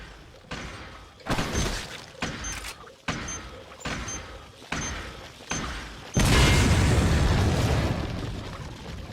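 Several sharp bursts punctuate a loud rumbling scene, ending in a long, roaring explosion that swells and slowly fades, from the video game Resident Evil 4.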